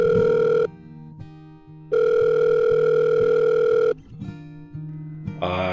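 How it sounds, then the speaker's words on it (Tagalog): A cellphone rings loudly with a steady electronic tone in two long bursts separated by pauses, set over quiet background music, with no talking. "Ilang sandali pa ay bigla nang tumunog ang aking cellphone at sinagot ko naman ito."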